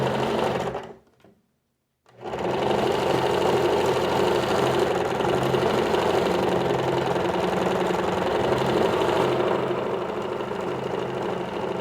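Sewing machine stitching together small fabric scraps for a quick patchwork pouch, running in a steady loud mechanical whir that stops briefly after about a second, then resumes and continues without pause to the end.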